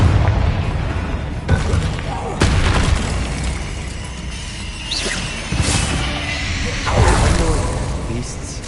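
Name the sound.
Confringo blast spell explosion in video game Hogwarts Legacy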